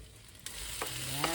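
Garlic and onion sautéing in a pan for Filipino pancit, a steady close sizzle with a few sharper bursts as pieces hit the hot oil, growing slightly louder over a brief moment.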